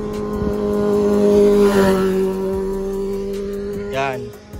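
A stock Toyota 4K car engine idles steadily up close with a low droning hum, while people talk nearby over the running motor.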